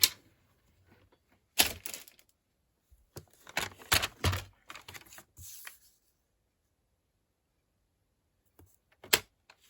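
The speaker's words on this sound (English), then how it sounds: "So let's go 4 3/4 on my trimmer." A paper trimmer slices through scrap paper in a few short, crisp scraping strokes at close range, with a pair of quick passes early on, a busier cluster in the middle, one last stroke near the end, and quiet gaps between.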